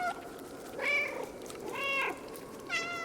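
Repeated meows from the cat in the video game Stray, three rising-falling calls roughly a second apart, somewhat deep in tone, heard clearly over quiet background game ambience.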